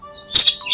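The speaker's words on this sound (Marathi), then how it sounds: "पक्ष्यांच्या किलबिलाट ऐकू येतो" A quick burst of high, bright bird chirps, loud and close, over a faint steady tonal background.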